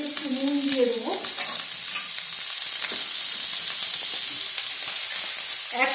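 Chicken manchurian frying and being stirred in a pan over a high flame, a steady close hiss of sizzling oil with scraping stir strokes and a brief spoon clatter near the start, no voices.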